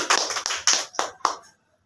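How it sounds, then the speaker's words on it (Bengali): Brief scattered hand clapping at a committee gathering, several sharp claps in loose rhythm fading out after about one and a half seconds, close and moderately loud with no talk. "এম হাবিব কাঞ্চন, ওনার জন্য আমরা একটা করতালি"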